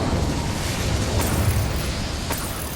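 A whooshing, crackling burst of Incendio fire magic in Hogwarts Legacy, a dense broadband roar that holds steady and loud for nearly three seconds with a couple of sharp flares along the way.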